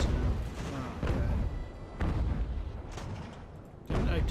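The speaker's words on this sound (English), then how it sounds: "Didn't I tell you not to fire the cannons?" Cannons firing from age-of-sail naval warships in a video game: repeated deep booms about a second apart over a steady low rumble of battle ambience.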